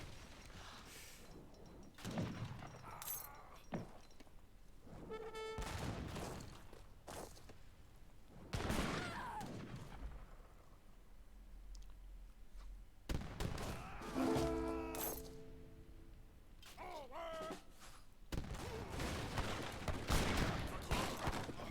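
Repeated heavy cannon and culverin shots in the strategy game Age of Empires III, sharp booms spaced a few seconds apart with metallic clanks and unit-response chimes between them, no voice.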